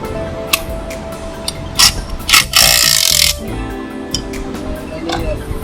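Unbolting a front lower control arm bolt on a four-door Acura Integra with a 14 mm wrench: quick metallic ticks and ratcheting clicks with a brief louder clank near the middle, close by, over steady background noise.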